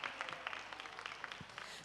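Applause from an audience at a university symposium, a steady patter of many hands clapping through the whole moment at moderate volume, no voices over it.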